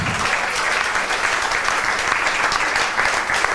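A church congregation claps for the Lord during a sermon, a dense, loud, sustained round of applause from many hands filling the room, steady throughout the short stretch without speech.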